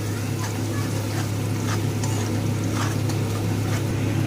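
Chopped garlic fries in a pan for chicken 65, a steady dense sizzle running loud and close throughout, with a constant low hum beneath and faint scraping strokes now and then.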